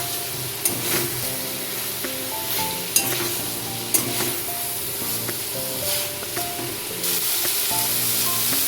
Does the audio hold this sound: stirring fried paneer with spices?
yes